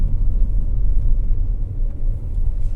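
A BMW X1 with an N47 diesel engine is driven on a short test drive, giving a steady low engine and road rumble throughout, loud and close, with no talking.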